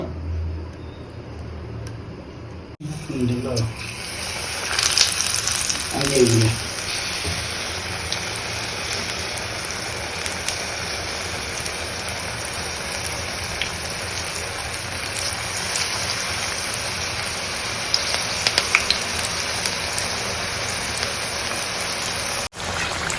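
Green chilli bajji fry in hot oil, a continuous dense hiss and crackle like steady rain, close and even throughout, with a brief lower disturbance near the start and no voices.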